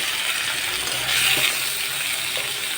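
Beef fat dropped into hot cooking oil sizzles steadily at close range, a continuous bright hiss that swells briefly in the middle with faint clinks of a utensil against the pan.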